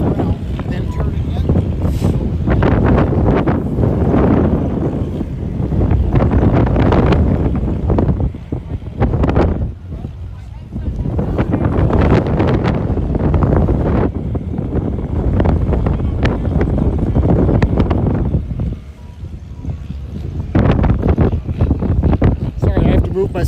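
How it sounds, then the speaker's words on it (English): Strong wind buffets the microphone outdoors at a rock crawling event in Cedar City, a loud, continuous low roar that swells and dips, with voices faintly mixed in. "Move myself out of the wind."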